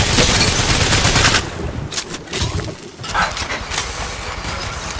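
Rapid automatic gunfire in the mobile video game Apex Legends Mobile, loud and dense at first, then continuing as scattered bursts and shots amid battle noise.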